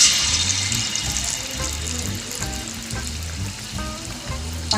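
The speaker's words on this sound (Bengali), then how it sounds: "চলুন বড়াগুলো ভেজে নিই" Palm fruit fritters (taler bora) frying in hot oil, a steady close sizzle running the whole time with a faint background tone underneath.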